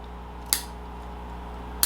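Scissors snip bonsai pot drainage screen, two short crisp cuts spaced over a second apart against a quiet, steady background hum.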